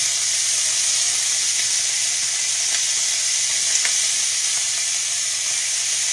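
Beef pieces for stroganoff fry in a little oil in a pan, giving a loud, steady, close-up sizzle with faint crackles that stays unbroken from start to finish and has no voices over it.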